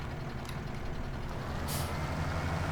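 Truck engine in Farming Simulator 17, an entry-level 40 km/h truck with a beacon on top: a steady, low engine rumble held throughout, with a brief hiss partway through and no voices.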